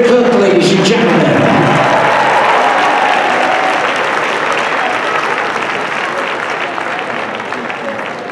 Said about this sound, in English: a great round of applause for David Cook, ladies and gentlemen.